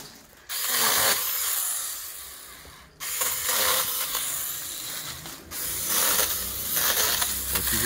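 A Chinese-made power saw cuts in three loud bursts of harsh, rasping mechanical buzzing, each cut off by a sudden brief pause.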